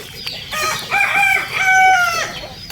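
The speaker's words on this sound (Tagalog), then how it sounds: "yung mga manok nandyan na sila" A native rooster crows loudly and nearby on a farm field, its drawn-out call ringing over soft clucking from other chickens.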